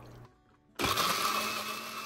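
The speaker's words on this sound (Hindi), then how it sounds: "अनार के दाने थे जो मैंने फ्रीज़र में फ्रीज़ किए हुए थे उन्हें मैंने निकाला है और ब्लेंडर में थोड़ा सा पानी चीनी और नमक डाल के ब्लेंड कर लिया है" A kitchen blender whirs into action on frozen pomegranate seeds with water, sugar and salt, switching on abruptly after a brief quiet moment and then running as a loud, steady, high-pitched grinding roar with no talking.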